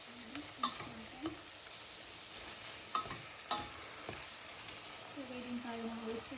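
Chicken breast being stirred in a pan of chicken stew with sauce, soft steady sizzle under scattered scraping and clacking utensil hits, with a brief voice near the end.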